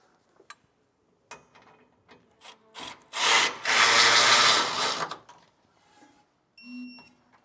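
Metal bolts on an air helper spring frame bracket are snugged down with hand tools, giving scattered ticks and clicks, then a louder stretch of ratcheting or rubbing and a brief tonal tap near the end.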